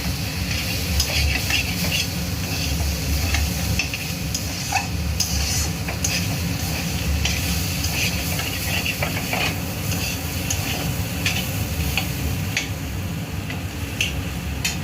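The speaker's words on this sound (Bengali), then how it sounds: "ভালো করে নাড়াচাড়া করতে হবে বন্ধুরা। একটু সামান্য হলুদও দিয়েছি।" Chowmein vegetables with turmeric being stirred in a pan, a steady sizzle with repeated scraping and clicking of the utensil against the pan, continuous and close with no talking.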